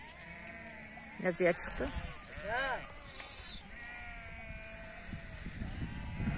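Sheep on a village farm bleat at their first milking, several close, loud bleats in quick succession over a steady background hum, while a person talks nearby.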